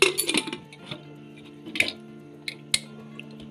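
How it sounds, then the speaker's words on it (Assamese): Metal clinks and clatters of a pressure cooker lid being fitted onto the pot in a home kitchen while cooking roasted lentils with yam, a few sharp close knocks spread over a few seconds with no talk. "এতিয়া ধুনীয়াকৈ কুকাৰৰ ঢাকনিখন লগাই দিম"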